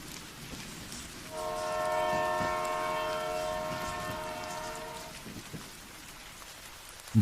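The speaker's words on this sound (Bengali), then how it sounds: "ইতিমধ্যেই ট্রেন এসে থামল" A train sounds a long, steady multi-tone horn as it arrives at a station in heavy rain, the horn rising over a constant rain hiss and rumble, then fading.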